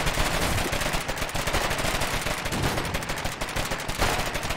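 Constant heavy gunfire in the war game Foxhole, dense rapid machine-gun bursts and overlapping shots filling the whole stretch without a break, loud and close with no talking.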